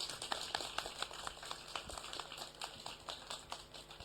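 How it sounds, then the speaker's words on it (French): Audience applause for the runner-up of a Super Smash Bros final, a quiet, steady patter of many hands clapping, heard from a distance with no talk. "On peut encore l'applaudir bien fort."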